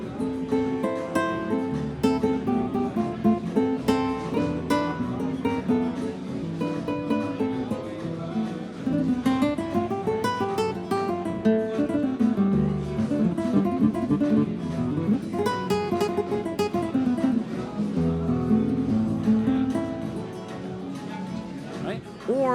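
A Yamaha YC61 stage keyboard plays a classical guitar voice in a continuous, rippling plucked passage at moderate loudness, with soft and louder moments.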